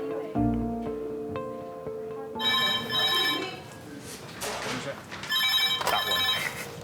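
A telephone bell rings in bursts of bright, repeated trilling tones, with a short talking voice just before the first ring.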